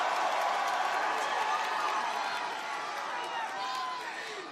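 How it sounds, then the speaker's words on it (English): Wrestling arena crowd at a televised Friday Night SmackDown event roaring and cheering, a dense continuous wash of noise that stays steady and slightly fades, heard from a distance rather than close up. "It's a loud crowd."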